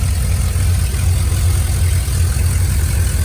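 A turbocharged 5.3-litre V8 in a 2001 Chevrolet Silverado pickup runs at a steady idle, a loud close continuous rumble with a faint hiss on top and no talking.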